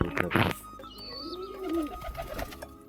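Domestic pigeons coo close by, a soft throaty warble running through the middle, with a brief sharp burst of bird noise at the start and light rustling around it.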